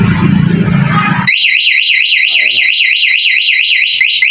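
Motorcycle alarm blaring a loud, steady warbling siren that wavers up and down continuously, starting abruptly after a burst of broadband noise, with faint voices beneath.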